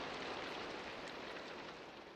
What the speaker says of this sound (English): Oh, it's raining as well.